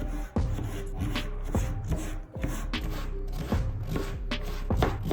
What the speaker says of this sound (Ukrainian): Ми його нарізаємо невеличкими кубиками.